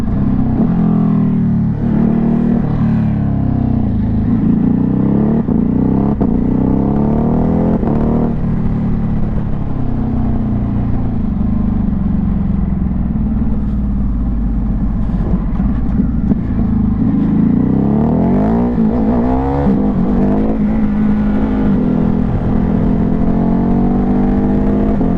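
Ducati Hypermotard 950 SP motorcycle with dual SC exhaust, heard while riding: a loud, close, continuous engine drone that rises and falls as the rider opens and closes the throttle, steady throughout with no talk.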